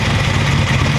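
An engine fitted with Rae-san ignition boxes runs steadily near and loud, a continuous low rumble with no clear rise in pitch over the short stretch, no speech.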